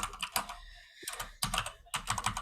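Fast typing on an analog computer keyboard, a dense run of clicky keystrokes with a brief pause in the middle, fairly quiet and close, with no voices over it.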